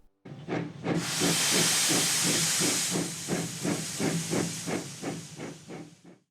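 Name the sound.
steam locomotive puffing, Percy from Thomas & Friends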